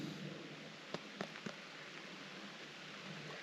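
Rain falling on a tent in remote mountain wilderness in western Virginia, a faint steady patter with a few louder drops tapping the fabric.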